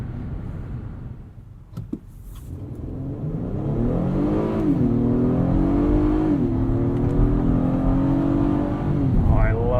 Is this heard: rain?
no